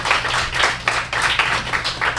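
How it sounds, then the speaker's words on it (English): A comedy show audience claps for the performers in close, rhythmic bursts, loud and full throughout with a steady low hum beneath. "Let's get another round of applause for Tall Tales."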